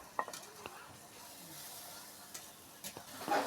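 Chopped tomatoes added to a pan of spiced masala with turmeric, salt and a little water sizzle faintly, with soft stirring scrapes and a few light clinks of a utensil against the pot.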